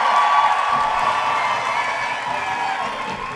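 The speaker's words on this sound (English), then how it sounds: "I think it's important that we clap a warrior out of the ring, Anthony Willpower Williams" At a charity boxing event, a crowd claps and cheers as a fighter leaves the ring, a loud, steady wash of applause with scattered shouts that eases slightly toward the end.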